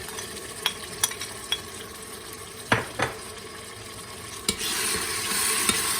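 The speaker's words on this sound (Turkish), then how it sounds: "Biraz da bunu şöyle kavuruyorum." Tomatoes and peppers sautéing in a pot for a meat and dried bean stew, giving a steady close sizzle with several sharp spoon-against-pot clinks and scrapes, and the frying hiss swells louder toward the end.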